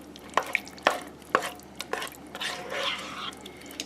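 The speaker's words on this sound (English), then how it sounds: "Just give it another stir. I'm just going to stir it for about 10-15 seconds." Beef and noodles stirred in a Ninja Cooking System skillet pot, with a few sharp utensil scrapes and taps against the pot followed by a soft, continuous sizzling swish, close and fairly quiet.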